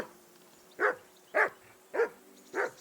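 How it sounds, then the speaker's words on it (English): A dog in Kingdom Come: Deliverance II barks four times at an even pace, close and clear, with short yelping barks and no voices between them. "Call that dog to heel!"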